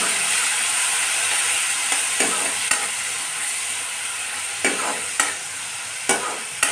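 A ridge gourd and tomato curry sizzles loudly in a lightly oiled pan after a splash of water, a dense bright hiss with repeated crisp clicks of a spatula stirring, close up and without speech.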